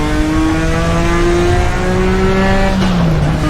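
Nissan R32 GT-R engine on a Bathurst hotlap in a racing game, a loud, continuous whine climbing steadily in pitch under acceleration before an abrupt gear change near the end.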